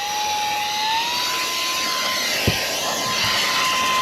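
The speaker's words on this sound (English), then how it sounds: "That's like a powerful blower, just like that." A Bebuy cordless handheld 4-in-1 car vacuum runs in blower mode with a steady, loud whine and airy rush throughout, a rising tone settling early and a brief thump midway.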